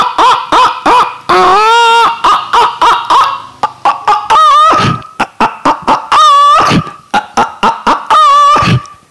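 A hen clucks close by near a rooster, loud, choppy bursts of throaty, rising and falling cackles repeating in irregular rhythm with short pauses between.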